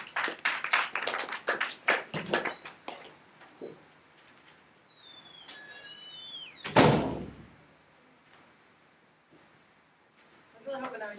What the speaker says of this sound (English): I was really hoping that was you slamming the door